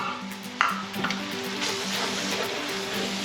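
All-purpose flour cooks in bacon grease for sausage gravy, a soft close sizzle with scraping and stirring strokes against the pan and one light metallic clink near the start; no voices.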